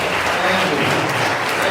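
A conference audience claps in a round of applause at a justice event, a dense, steady wash of hands at close to medium range that holds evenly from start to finish.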